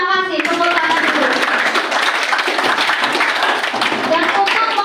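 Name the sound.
class clapping hands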